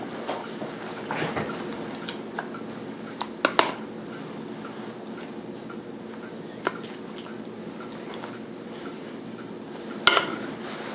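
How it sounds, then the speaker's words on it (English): While shrimp gnocchi is served up in a kitchen, spoons and utensils make sparse, light clinks and taps against dishes over a quiet, soft background. "the first thing I'm going to do is dish up the shrimp gnocchi"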